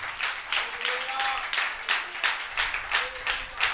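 A church congregation at a Palm Sunday service claps hands together in praise, the claps falling in a steady, even rhythm of sharp bursts throughout, with a voice faintly present underneath.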